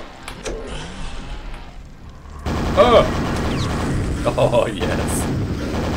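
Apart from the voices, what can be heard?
nail gun firing in the video game Quake Remastered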